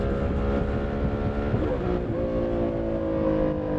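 A Harley-Davidson Sportster S motorcycle engine pulls hard under acceleration, a loud, steady, close-up roar with a rough low rumble and wind buffeting throughout.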